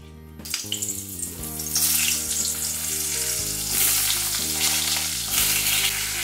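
Pointed gourd (potol) fries in oil with turmeric and a little salt, giving a steady, fairly loud sizzle that swells after the first couple of seconds and carries on under background music with sustained tones.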